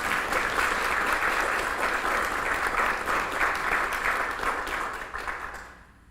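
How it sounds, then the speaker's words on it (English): A school board meeting audience gives a round of applause for educators, dense even clapping that holds steady and then fades out toward the end. "Would you help me give them a round of applause?"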